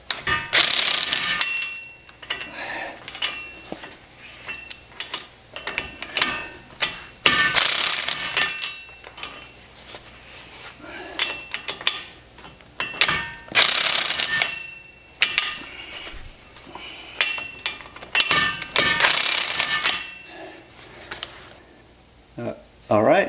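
Rapid ratchet clicking in repeated short bursts as hub bolts are tightened on a 2007 Chevy Silverado 3500 Duramax, close and loud, with pauses and speech between the bursts.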